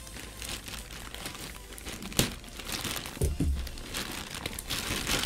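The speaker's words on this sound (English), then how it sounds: "Let's just unwrap this one and see what is inside of this one." Plastic wrapping on a Temu package crinkles and rustles up close as it is pulled open, with a few sharper crackles and tearing sounds standing out against the soft, continuous handling noise.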